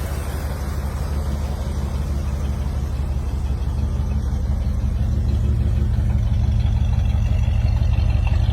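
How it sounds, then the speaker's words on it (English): A 1940 Ford Deluxe sedan engine runs smoothly at a steady idle, a low continuous rumble, close and even throughout with no voices. "the car starts and runs smoothly"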